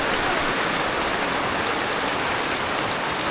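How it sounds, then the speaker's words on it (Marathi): Heavy rain pours down at Raigad fort, a dense, loud, unbroken roar of drops striking surfaces with no voices. "पाऊस बघा कसला पडतोय."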